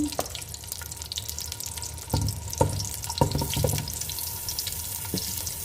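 A whole onion drops into hot oil in a pan and sizzles steadily, with scattered clinks and pops of cookware over the frying.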